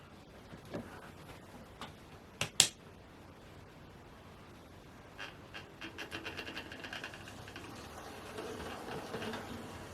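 A Hornby Adams Radial 30584 model steam locomotive in early BR livery runs along its track with faint ticking and clicking, a few sharp clacks early on, then a steadier rapid rattling that builds toward the end.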